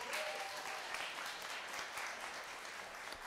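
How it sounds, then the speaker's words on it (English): An audience claps at a school award ceremony, steady dense applause from a crowd in a hall, moderately distant and fading slightly toward the end. "Another round of applause."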